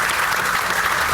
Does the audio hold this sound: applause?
yes